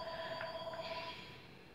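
A telephone rings faintly in a quiet room, a brief electronic trill of a couple of bursts before fading.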